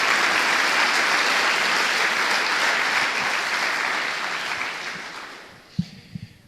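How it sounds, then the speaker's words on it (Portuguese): A church congregation applauds in worship, a loud, dense roar of clapping that holds steady and then gradually fades out, ending with a few scattered thumps. "Dê uma salva de palmas ao Senhor."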